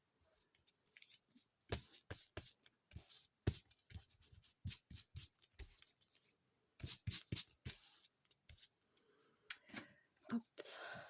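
Paper scraps being glued and pressed by hand give soft rustles, rubs and taps in uneven bursts with quiet gaps, close-up and faint.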